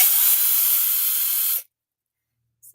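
Power drill bores out a rivet on a diecast toy car, a steady, close, high whirring grind lasting about a second and a half before cutting off abruptly, followed by silence and a faint brief noise.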